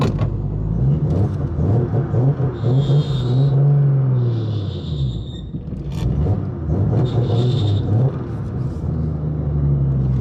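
A Barra-engined Ford Mustang GT350 rumbles loudly up close, its engine revving and swelling repeatedly under throttle with a steady low growl throughout.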